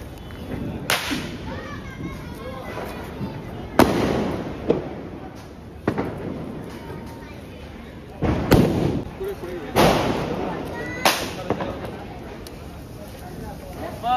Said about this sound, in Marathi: तर थोडे फटाके रशी बॉम्ब वगैरे तर करू.